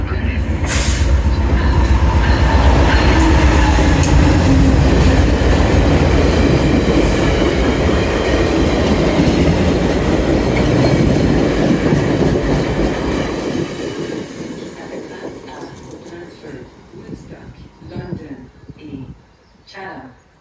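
VIA Rail train 73, bound for Windsor, rolls through Aldershot station in Burlington with a loud, close rumble of wheels and cars that fades over the last several seconds, while a voice speaks over it.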